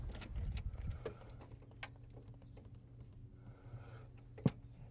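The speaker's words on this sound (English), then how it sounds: "keys on." Car keys for a non-running International Scout jangle briefly in a few quick metallic rattles, near and fairly faint, with a soft sharp clink toward the end.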